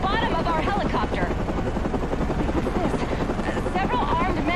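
News helicopter in the video game Batman Arkham Origins, a loud steady rotor chop close and continuous under a man's excited radio-style commentary.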